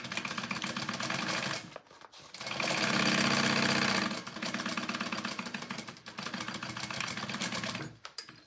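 A sewing machine stitches the side seams of a Flair crossbody bag, running in bursts of steady rapid whirring with brief pauses between passes, one longer, louder stretch in the middle.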